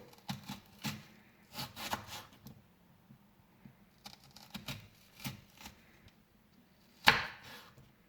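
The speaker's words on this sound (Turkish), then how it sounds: "kırmızı soğanımızı şu şekilde halka halka dilimliyoruz" Knife slicing a red onion into rings, heard as a few separate crisp cuts against a board with short quiet gaps between them and one sharper thud near the end, no voice.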